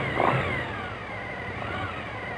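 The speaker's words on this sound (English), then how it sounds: "Each time I make an adjustment, I rev the engine slightly and then allow it to idle back down." A Suzuki engine being tuned for throttle body sync blips briefly near the start, then settles into a steady, even idle, close and continuous with no talk.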